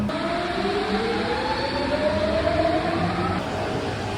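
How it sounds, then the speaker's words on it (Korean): A Paris metro train runs underground with a steady loud rumble and a rising wheel whine, close and continuous, with no talk. "지금 이 스크린 도어까지는 너무 신식 파리 지하철을 타서 정신이 없네요."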